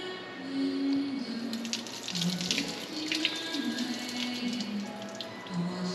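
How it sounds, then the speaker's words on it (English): Water runs and splashes continuously off a John Deere 8360R tractor panel after pressure washing, a wet pattering sheet of sound, fairly close, with a low engine-like drone beneath. "you can actually dry it off with water by flooding the panel off"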